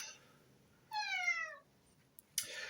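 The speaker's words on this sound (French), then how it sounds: "petite coupure pour ouvrir au chat, sinon il allait faire que miauler." A cat meows at a door: one clear drawn-out meow, close and fairly loud, followed after a pause by a couple of short scuffing noises. No one speaks.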